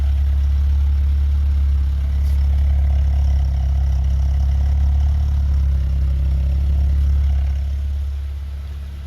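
A 1982 BMW 320i engine idles steadily after its idle air control valve was cleaned, giving a smooth, low, even rumble up close for several seconds before fading slightly, with no talking.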